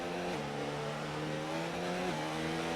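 Race car engines idling and droning together on the formation lap of a British Grand Prix in an F1 video game, a steady loud mechanical hum with a slight pitch drop partway through.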